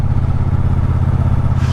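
A Triumph Speedmaster 1200 motorcycle engine runs at a steady idle, a close, loud, throbbing low rumble with a regular beat and a slight rise in hiss near the end.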